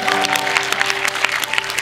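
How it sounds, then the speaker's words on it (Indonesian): A premiere audience applauds the cast and crew of the film Cinta Dalam Ikhlas, steady dense clapping throughout with a steady tone from the sound system underneath. "Boleh berikan tepuk tangan sekali lagi teman-teman."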